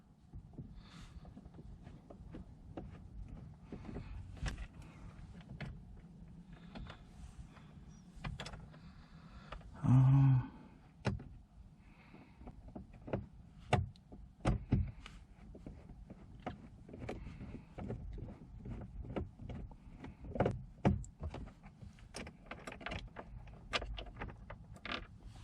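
Screws being unscrewed from a 2015 Honda Civic dashboard by hand, a quiet run of small clicks, scrapes and plastic creaks close up, with one brief louder rattle midway and no talking.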